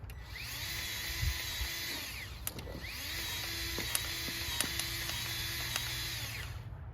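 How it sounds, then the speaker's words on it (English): A cordless Milwaukee M12 grease gun whirs in two steady mechanical runs with a brief pause between, greasing mower deck spindle zerks, with small clicks over the motor hum. "I use a M12 Milwaukee grease gun. Works really well for this."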